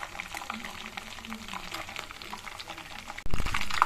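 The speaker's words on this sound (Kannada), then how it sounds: "ಚಟಪಟ ಅಂತ ಸೌಂಡ್ ಬರ್ತಾ ಇದೆ ಅದರಲ್ಲಿರೋ ನೀರಿನಂಶ ಎಲ್ಲ ಹೊರಟೋಗ್ಬಿಡುತ್ತೆ" Homemade ghee heats in a pan on a stove, giving a steady crackling, bubbling sizzle as its water content cooks off. The sizzle grows noticeably louder in the final moments.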